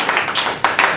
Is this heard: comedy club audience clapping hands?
yes